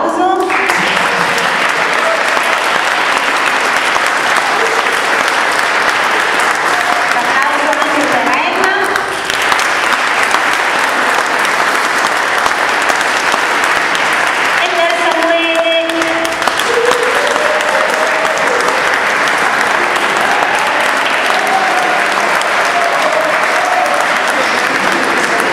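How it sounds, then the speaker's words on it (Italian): An audience at a 2021 Christmas concert applauds loudly and continuously for a long stretch, a dense close roar of clapping with a brief dip partway through and some voices mixed in. "a fare un grande applauso"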